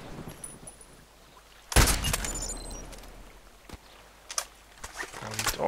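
A sniper rifle in the game Contract Wars on the Lighthouse map, one loud sharp crack with a long ringing tail, followed by fainter scattered shots and footsteps.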